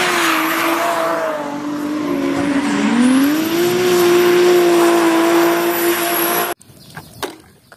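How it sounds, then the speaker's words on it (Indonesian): A toy race car plays a loud electronic engine roar, a sustained revving drone that dips and climbs in pitch for about six seconds, then cuts off abruptly, leaving faint clicks and handling noise. "Wah, lihat, teman-teman. Yang ini mobil balap."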